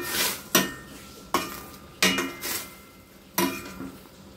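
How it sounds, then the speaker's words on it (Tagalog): Dinengdeng vegetables being stirred in a cooking pot, with four or five sharp clattering scrapes of a utensil against the metal at an uneven pace, close and fairly loud with no voices. "Halo-haloin natin para maluto na sa ibabaw"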